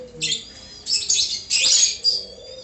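Jacobin and Giribaz pigeons give several loud, harsh squawking calls in quick bursts at close range, with a faint low hum beneath.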